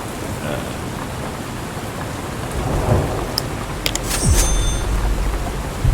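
Steady hissing rain in the video game Drug Dealer Simulator fills the scene, with a low roll of thunder swelling near the end; no one speaks.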